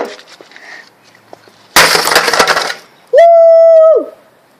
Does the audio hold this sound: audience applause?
no